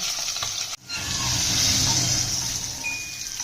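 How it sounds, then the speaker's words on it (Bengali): Ganges fish fry in hot oil in a pan, a loud, bright continuous sizzle with a brief break near the start before the spitting resumes steadily. "গরম হয়ে গেছে মাছগুলো একটু ভেজে নেবো আমরা"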